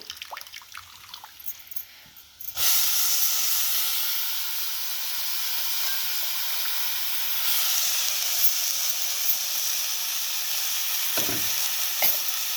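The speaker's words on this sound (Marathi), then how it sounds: "आता हे मटकी टाकते धुवून आणली" Washed moth beans tip into a hot pan over a village wood-fired stove, setting off a sudden loud, steady sizzling hiss that holds for about ten seconds after a quieter start.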